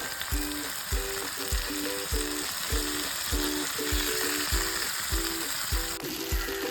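Fish fries in a pan for Kerala-style fish mappas, with a dense, steady sizzle and a regular run of rhythmic tapping pulses underneath. Nobody talks.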